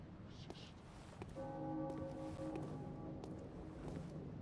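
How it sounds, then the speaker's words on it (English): A bell rings in the Bloodborne game world, a sustained metallic tone with long ringing overtones holding steady under dim ambient game sound, moderately distant. "There's a bell ringing up here."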